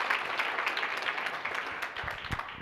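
An audience at a book talk claps for an author, a dense, steady round of applause for a couple of seconds with no speech over it.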